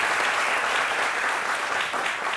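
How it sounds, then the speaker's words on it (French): A French television studio audience claps loudly for a guest, Marie-Paul Adjé, a dense, continuous burst of applause from a full crowd filling the whole moment. "Merci beaucoup, on applaudit très fort"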